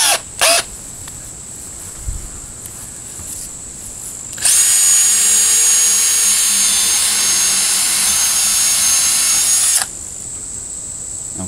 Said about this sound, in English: You might have to drill you a pilot hole to start it.